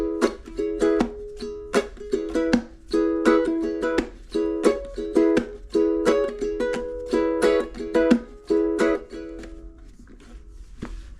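Ukulele strummed in a repeating pattern mixing open up-and-down strums, palm-muted strokes and sharp percussive smacks on the body, steady and close, with a few lighter strokes trailing off at the end.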